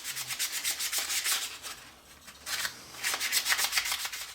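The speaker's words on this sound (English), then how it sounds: "just a little light sanding to take away that burring" Light hand sanding smooths the burred edge of a caged golf ball, a steady close run of quick rubbing strokes that pauses briefly midway, then resumes.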